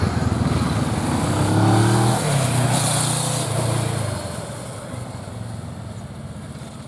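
A motorcycle engine pulling in second gear during a riding lesson, a loud close rev that climbs, holds, then drops back to a lower idle-like drone.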